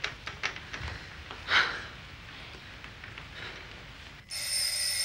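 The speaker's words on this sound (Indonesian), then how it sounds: "Tolong telepon tuh." An indoor telephone starts ringing near the end, a steady bright electronic ring that cuts in abruptly over quiet room ambience after a few soft knocks and rustles, with no talk.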